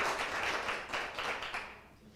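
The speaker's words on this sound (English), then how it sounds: "let's give them a round of applause at home" Audience applause for ChargeZoom, a brief soft burst of scattered clapping that fades out toward the end, with no talking over it.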